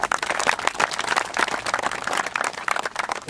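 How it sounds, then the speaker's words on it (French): A small indoor audience at a French football scouting event claps in a brief burst of dense, fairly close applause that runs steadily without speech. "Donc on peut l'applaudir également"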